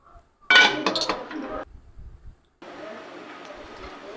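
An idli steamer pot, used for steaming kozhukattai, clanks sharply as metal clinks and knocks during handling, followed by a low steady hiss of steam or burner noise.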